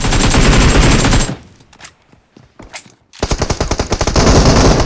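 Loud automatic gunfire in PUBG Mobile, rapid close bursts of shots that stop for a moment of quieter clicks and thuds and then start again with a fast stream of rounds.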